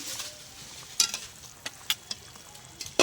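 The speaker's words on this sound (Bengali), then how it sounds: "তরকারিটা তো ফুটছে" Soft bubbling and simmering from a pot of potato curry, with quiet pops and a few faint utensil clicks.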